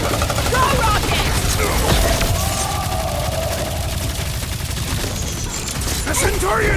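Dense, continuous gunfire and explosive blasts from a Guardians of the Galaxy combat sequence on PS5, loud and close, with voices talking over the action.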